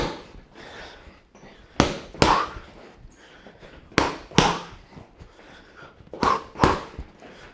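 Padded strikes in a low-impact gym workout: sharp, close smacks arriving in pairs, three pairs spaced a couple of seconds apart, over a quiet room with no talking.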